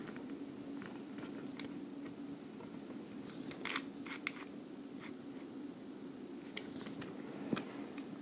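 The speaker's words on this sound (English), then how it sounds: "Let me just take it apart real quick." Small plastic clicks and taps from taking apart an Elite Force 1911 airsoft pistol, scattered faint handling sounds over a low steady hum, quiet and close.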